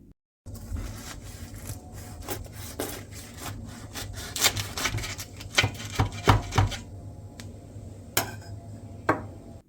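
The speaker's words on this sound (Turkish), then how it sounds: "Böreğin sesinden de anladığınız gibi dışı çıtır ve kıyır kıyır olan bu böreğimizin" Crisp, flaky börek pastry crackles and crunches as a knife saws through it, with scraping strokes and louder crackling bursts, close up and without talk.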